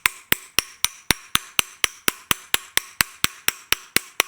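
Steady, rapid metallic taps from a brass hammer tapping a bearing into a mower deck spindle, about four per second, close and sharp with no talking.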